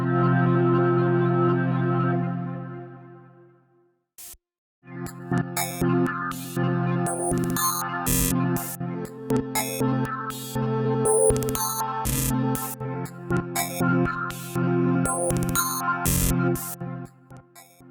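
A synth pad fed through the Thorn glitch sequencer, opening with a sustained smooth chord before breaking into chopped, stuttering rhythmic slices with bright bursts, loud and continuous with no talking.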